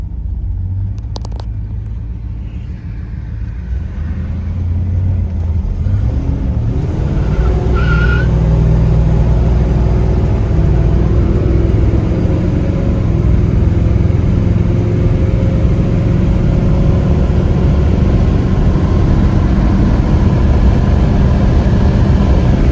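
A 1969 Plymouth Road Runner muscle car with factory air and power steering cruising down the highway, its engine a loud, steady rumble close by that builds early and then holds level with road noise.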